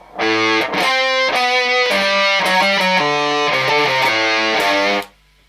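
Heavily distorted electric guitar picks a run of single notes in a steady rhythm, loud and close, ending with a held note that cuts off; the opening of Foo Fighters' "Outside."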